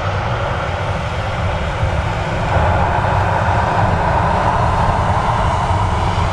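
A Boeing 737's engines roar at Manchester Airport, a loud broadband rumble that stays steady and swells slightly partway through, heard alone without voices.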